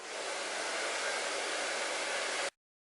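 A hair dryer blows steadily and loudly up close while a strand of hair is dried around a round brush, then cuts off abruptly near the end, leaving silence.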